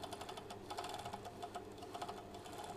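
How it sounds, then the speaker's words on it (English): An overlocker runs continuously along the centre front seam of a pair of shorts, a fast, even mechanical chatter held steady for the whole stretch with no pauses and no talking. "I'm going to overlock the whole way."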